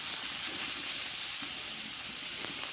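Grated potato frying in a little oil in a hot pan, a loud, steady close-up sizzle and hiss with faint stirring scrapes, continuous and without talk.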